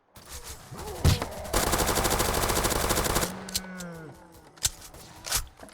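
Rapid machine-gun bursts ring out in the Roblox zombie-survival shooter Zombie Uprising, a sustained loud volley of a few seconds after scattered single shots, trailing into quieter game sounds.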